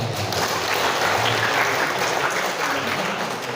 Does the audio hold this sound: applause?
yes